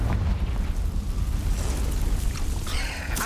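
A Confringo fire spell explodes in Hogwarts Legacy inside a cave, a brief rumbling blast with a dense low roar and crackle, close and fairly loud.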